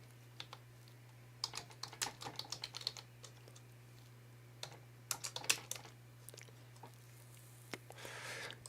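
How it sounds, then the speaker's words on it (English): Someone types on a computer keyboard in quiet bursts of soft key clicks, with pauses between runs and a low steady hum underneath. "You want to type in Freestone's Fat Channel."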